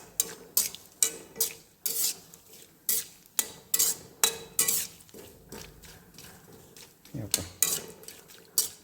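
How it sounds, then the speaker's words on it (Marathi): Roasted dal for a poha chivda, fried in a pan, heard as rhythmic sharp metal spoon scrapes and clinks over a light sizzle, close up, with a brief voice in the background. "ते झालं की परत डाळ तळायचं"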